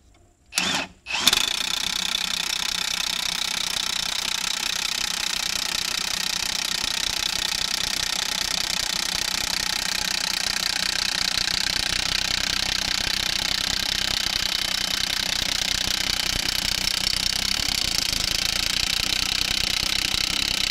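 A couple of short clicks, then a loud, continuous whine of a Milwaukee power tool drilling runs steadily without pause, close by and unchanging for the rest of the stretch.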